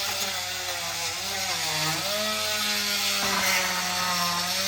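A battery-powered mower deck scraper works close by under a mower deck, a loud, steady electric motor whine that rises and falls in pitch, with no talking.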